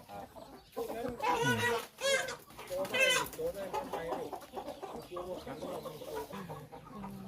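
Rooster crowing among Thai fighting roosters being trained, with several loud harmonic crows and clucks close by over ongoing background chatter and farmyard noise.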